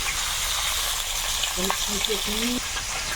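River fish frying in a wok gives a steady, moderately loud sizzle, and a short tonal sound of unclear source cuts through it midway.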